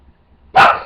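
A dog gives one short, sharp bark out on a back porch, sudden and close after near silence.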